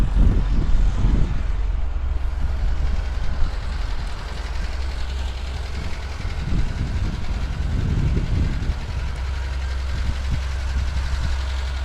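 An FSO Polonez car engine idles on choke with a raspy, steady low rumble, close and continuous, with a few brief louder surges and no talking.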